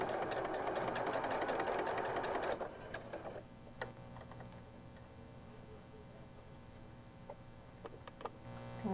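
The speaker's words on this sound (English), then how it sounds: "And continue sewing." A sewing machine stitches a quilt seam in a fast, steady whirring run that stops after a couple of seconds, leaving a low hum and scattered faint clicks.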